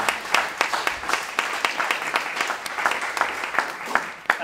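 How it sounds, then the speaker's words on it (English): Audience applause at a tribute event honoring Dr. Bernard Lown, a steady dense patter of many hands clapping throughout, fairly close and moderately loud, with a few sharper individual claps standing out. "And so let's give Al a round of applause."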